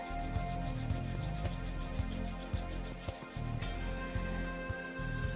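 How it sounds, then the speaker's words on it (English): Brisk rubbing of the medial and lateral sides of a foot during a full-body massage, a steady rhythmic brushing of hands on skin that repeats in quick strokes for several seconds, close and fairly soft. "Brisk rubbing to the medial and lateral aspects of the foot."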